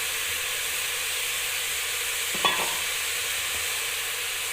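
Tomatoes and mint leaves frying in a pan, a steady close hiss and sizzle throughout with one brief clatter of stirring midway.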